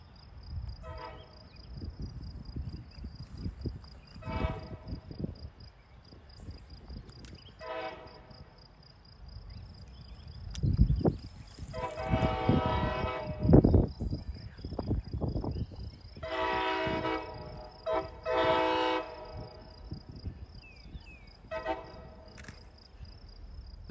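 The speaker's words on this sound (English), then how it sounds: "Notice how when this outbound passes the Middleboro Extra, it blows the horn." An outbound MBTA commuter train rumbles past on an adjacent track, sounding several loud horn blasts in bursts over the rolling noise, with a steady high insect-like whine throughout.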